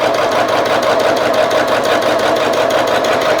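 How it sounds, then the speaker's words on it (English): A sewing machine stitches rag quilt squares with a rapid, even mechanical chatter, running continuously and close by with no voices over it. "I'm going to put them under the presser foot."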